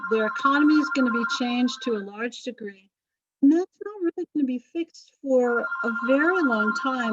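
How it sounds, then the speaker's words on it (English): A telephone rings with a bright, repeating electronic tone at the start and again near the end, sounding under a lecturer's continuous talk about history. "Oh, sorry about the phone."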